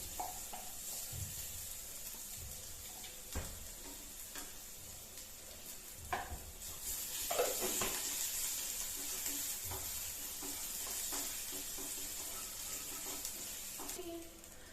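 Ginger garlic paste sizzles and fries in a hot pan, a steady close crackle with occasional stirring clinks and scrapes that grows a little louder partway through.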